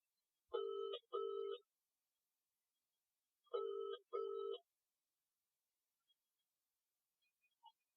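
Two pairs of electronic telephone rings sound in a quiet room as a call is placed, each pair a clean two-burst trill, then a long pause and silence.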